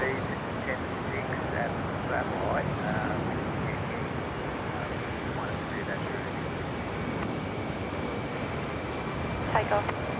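A jet takes off from a Melbourne airport runway, a broad continuous roar that stays steady across ten seconds with wind buffeting the microphone and voices talking faintly beneath.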